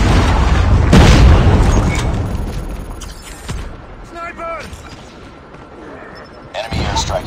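Predator missile explosions in the video game Call of Duty: a heavy boom strikes early, followed by rumbling blasts, gunfire and a final burst, with brief synthetic game voices in between.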